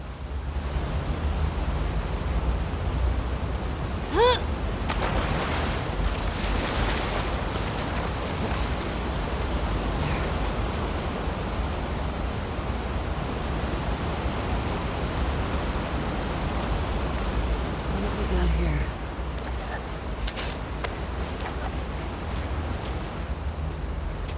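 Waves and water current wash around a swimming Ellie in The Last of Us Part 2, a dense, steady rushing surge with occasional splashes and faint tonal sweeps, continuous throughout and without talk.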